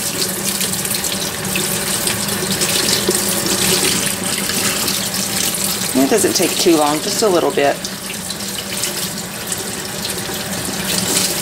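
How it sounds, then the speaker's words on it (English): Kitchen tap water pours steadily over layered vegetables to rinse out sand and grit, a loud close stream running throughout while a person talks briefly over it. "turn on the water, and then just kind of open them up and let the water run down the top"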